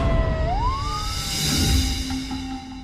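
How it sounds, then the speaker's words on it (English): An ambulance siren wails with a rising, sweeping tone over a steady rumble of traffic and engine noise, fairly close and loud throughout, in a true-crime documentary. "sirens blare as paramedics race to the scene"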